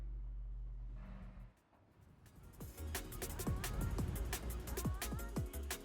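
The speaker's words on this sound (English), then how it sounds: "the car's on its way back to Yuji's to finish up its conversion" A car drives away in the Forza Horizon 6 racing game, its engine rumbling louder after a brief dip, with rising whines as it accelerates.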